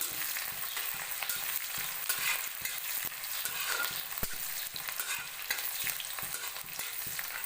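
Sliced onions with panch phoron, whole cumin and nigella seeds frying in oil in a wok, a continuous close sizzle punctuated by regular scraping stirs and spatula taps, with no talking.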